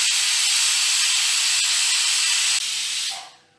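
A pressure cooker of khichdi on a medium gas flame lets out a loud, sustained hissing whistle of escaping steam, which holds steady and then quickly dies away, with no voices.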